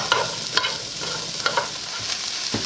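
Beet and chard stems sizzle with onions in a hot pan, giving a steady, close frying hiss. Scattered clinks and scrapes of stirring break through it, and no one speaks.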